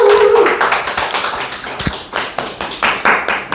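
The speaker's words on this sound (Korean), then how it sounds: "세일즈 마스터 박승우 사장님 큰 박수로 모시겠습니다." An indoor audience at a sales business briefing claps to welcome a speaker, with rhythmic, fairly close applause running throughout.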